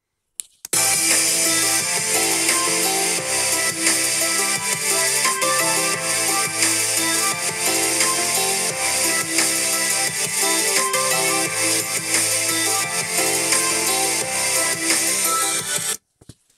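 Upward-firing speakers on a Dell XPS 9710 17-inch laptop play music at 80% volume, full and continuous for about fifteen seconds before it cuts off, with no voices.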